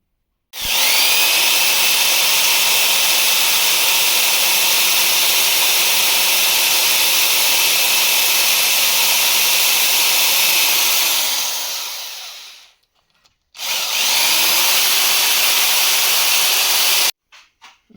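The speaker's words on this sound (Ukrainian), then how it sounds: "Лишилося зробити отвір для змазки і канавку." A power drill boring a lubrication hole and groove into a metal bushing, a loud, steady high-pitched whine that runs about twelve seconds, winds down, then starts again briefly before stopping.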